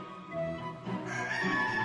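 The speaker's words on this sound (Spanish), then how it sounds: "Con este hermoso gallinero gótico que la devoción mantiene con un gallo y una gallina vivos" A live rooster and hen kept in a Gothic coop inside a cathedral, heard as faint clucking and calling against a reverberant indoor hum.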